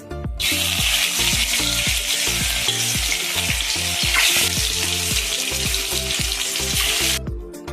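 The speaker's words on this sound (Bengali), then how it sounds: "তেল গরম হয়ে গেছে, এবার ডিমগুলো ভেজে নেব।" Eggs seasoned with salt and turmeric fry in hot oil, giving a loud, steady sizzle that holds for several seconds before cutting off, with rhythmic low music pulsing underneath.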